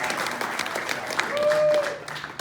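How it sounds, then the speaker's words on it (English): Audience applause at the Game On Expo gaming convention, a broad, steady crowd clapping with a voice briefly heard through it. "Let's give him an applause."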